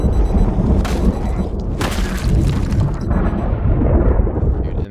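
Very loud thunder booms and rumbles close by in heavy rolling waves, with sharper crashes standing out within a continuous roar.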